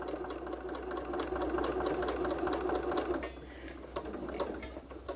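Sewing machine stitching quilt pieces with a quarter-inch seam, running as a steady, fast mechanical whir with rapid needle ticks, fairly quiet and close, then easing off briefly near the end.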